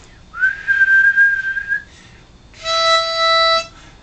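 A harmonica sounding clean single notes, two sustained tones separated by a short pause, each held for about a second, loud and close with no talking.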